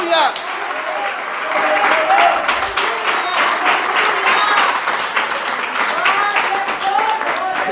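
Church congregation applauding during a sermon, a full continuous clapping that holds steady and loud, with faint crowd voices blended in.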